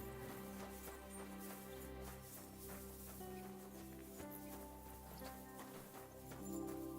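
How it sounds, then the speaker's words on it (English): Horse hooves clip-clop at a walking pace in the medieval Bohemian setting of Kingdom Come Deliverance 2, steady and moderately close, layered over a busy bed of background game music and ambience. "Oh, look a horsey."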